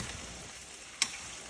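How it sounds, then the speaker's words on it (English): Chicken stir frying in a skillet for orange chicken, a soft steady sizzle with one sharp click or tap near the end, no talk. "I'm just going to let these finish stir frying"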